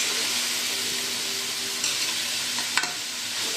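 Chopped ridge gourd sautés in a pan for kootu, a steady close sizzle and hiss with a brief scrape of stirring near the end.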